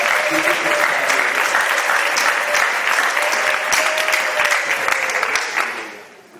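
A church congregation claps and cheers in a sustained burst of applause, dense and even throughout before fading away at the end.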